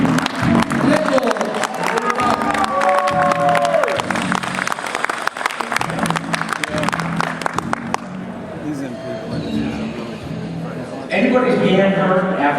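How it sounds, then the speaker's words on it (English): Audience applause for a contestant at a marketer-of-the-year contest: crowd clapping and cheering through the first eight seconds, dropping to quieter scattered sound before a burst returns near the end, with voices mixed in. "Let's give him a rousing round of applause, Mr. Jimmy Nichols."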